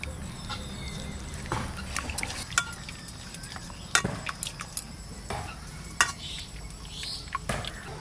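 Turmeric, salt, green chilli and mustard oil being mixed together by hand, with soft wet squelching and irregular scraping knocks of varying strength, heard close and without talk.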